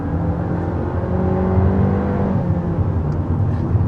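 A 2023 Honda Civic sedan's small, revised engine pulling under acceleration, a steady close droning whir with rising tonal hum from inside the car, fairly loud and unbroken, with no talking.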